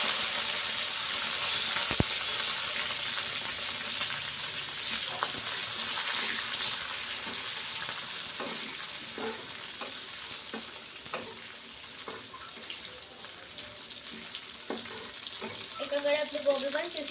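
Chopped green chillies dropped into hot oil for a tadka in a garlicky cauliflower dish, crackling in a steady, close sizzle throughout, with a few clinks and water-like splashes near the end.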